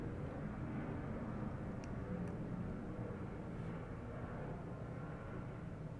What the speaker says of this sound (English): Can you guys hear that plane?